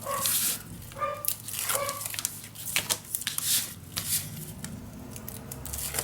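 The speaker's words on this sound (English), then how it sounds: "I'm gonna peel off this tape right here too." Tape being peeled off craft paper for a mini album, several short tearing rasps and rustles at a quiet level, with faint background sounds.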